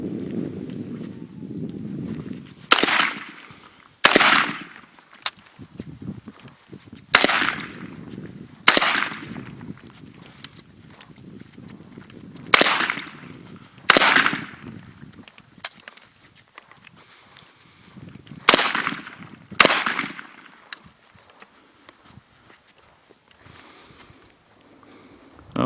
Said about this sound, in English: take 2 shots with the iron sights, then transition back to holograph and alternate back and forth until the weapon fires out.